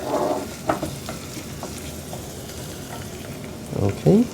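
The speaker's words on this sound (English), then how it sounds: "we add the spring onions while we continue to stir" Spring onions frying in oil in a pan give a soft steady sizzle while being stirred, with a few scraping stirs near the start and a brief voice at the end.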